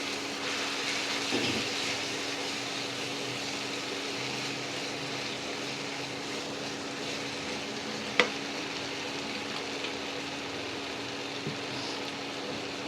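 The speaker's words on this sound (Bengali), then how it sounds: "মশলাটা একটু পুড়ে পুড়ে যাচ্ছে, এবার একটু জল দিয়ে কষাবো" Spice masala frying in a pan for a mango and prawn dish, with a little water added to cook it down. A steady close sizzle continues throughout, with one brief sharp clink partway and no talking.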